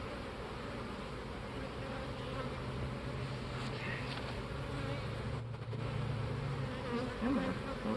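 Many honey bees buzz continuously up close around swarm cells, a dense steady hum with a few louder passes near the end.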